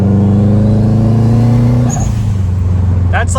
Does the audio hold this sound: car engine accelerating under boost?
yes